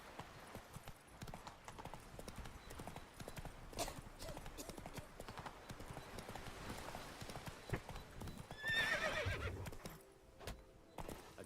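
Hooves clip-clop in a quick steady rhythm as a horse runs in The Witcher 3 video game, with a louder whinny-like burst near the end.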